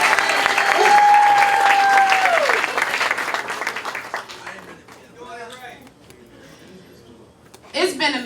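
Hand claps from an audience for Malcolm's daughter at a spoken-word anniversary event, clapping and cheers that fade out as a voice talks over and after it.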